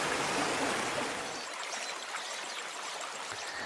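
Glenavy River flowing just above a small waterfall, a steady broadband rush of water, close and fairly loud at first, then settling into a softer, even stream with no voices.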